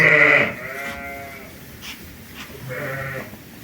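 Sheep on a large livestock farm in a village in Ternopil Oblast, Ukraine, bleat loudly and close at first, then a second bleat rises over quieter farm background noise.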